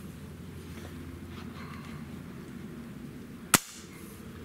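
A single sharp, loud crack from a Norica Omnia ZRS air rifle firing once, standing out against quiet background hiss and followed by a brief silence.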